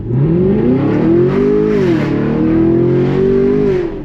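A Camaro LT1 V8 engine revs up sharply, its pitch climbing, holding, then sweeping up and down in a loud, close, continuous roar with no talking.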